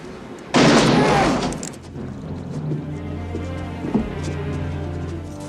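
A loud gunshot bursts out in a Western film shootout, followed by a fading rumble and a smaller pop a few seconds later over low background sound.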